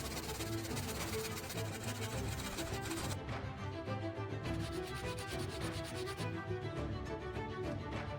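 Continuous dense abrasive rubbing as the cut edges of a copper adapter are polished smooth during restoration of an old rusty wrench, loud and steady throughout with a brief change in texture partway.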